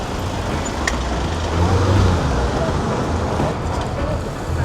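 Road traffic on Uxbridge Road at Shepherd's Bush, London, with a continuous rumble of passing cars and buses that swells briefly in the middle. Someone talks over the traffic.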